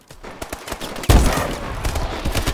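Rapid bursts of gunfire from the video game Call of Duty: Advanced Warfare, a string of sharp shots followed by a loud sustained volley up close.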